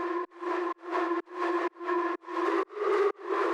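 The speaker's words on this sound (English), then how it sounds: "I call it weird chorus reverb." A lead synth soaked in a weird, slightly off-pitch chorus reverb repeats eight short, evenly spaced sustained stabs that end sharply, loud and close with no talking.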